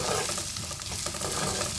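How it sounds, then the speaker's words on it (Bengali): Sliced bitter gourd fries with salt in a pan for shukto, making a dense, continuous sizzle with no pauses. "নুনটা একটু দেওয়ার পরে উচ্ছেটা একটু ভাজা ভাজা হলে"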